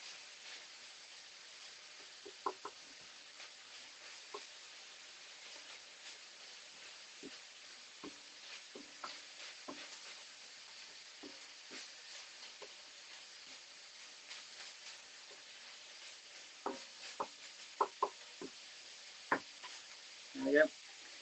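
Pork browning in oil in a pan for a Thai-style rice bowl, a soft steady sizzle with scattered faint ticks and spatters, fairly quiet throughout with a few louder knocks near the end.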